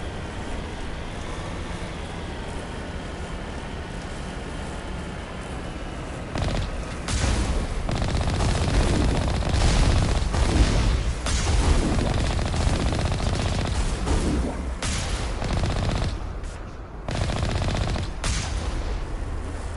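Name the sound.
gunfire shooting Geth in Mass Effect Legendary Edition video game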